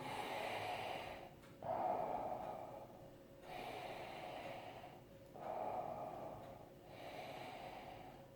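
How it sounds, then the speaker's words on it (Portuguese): Muffled breathing through a hand-covered nose, in three slow inhale-exhale cycles with a soft snorting rush on each breath, close and quiet with no talking. "Faz 3 respirações com mão cobrido."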